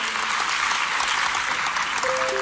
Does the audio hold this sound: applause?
yes